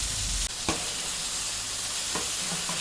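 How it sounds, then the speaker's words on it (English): Mongolian-style beef sears on a Vevor 22-inch flat top griddle, a loud steady hiss and crackle with a couple of brief scraping clicks, no voices. "Oh yeah, nice sear going on there."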